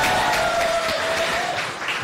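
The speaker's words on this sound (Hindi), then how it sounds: "इसलिए आपके लिए एक बार जोरदार ताली होनी चाहिए।" An audience applauding loudly at a Hindi event, with dense, continuous clapping filling the whole short stretch and a brief sustained tone underneath.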